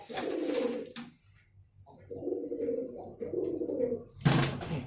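Courting pigeons coo in a series of low, throaty bursts, several close-up phrases separated by brief pauses, with a louder rustle or flutter near the end.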